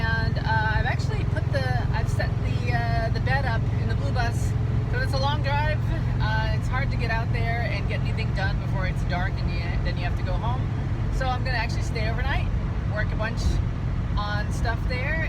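The engine of a 1969 blue VW camper bus drones steadily under a constant low rumble while driving, with someone talking over it almost the whole time.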